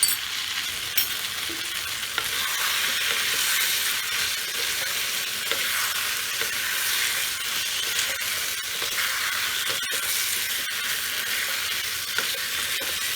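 About a teaspoon of ghee sizzles and fries in a pan while pumpkin chhokka is cooked, giving a steady crackling hiss with a few sharper pops, close by and with no talking.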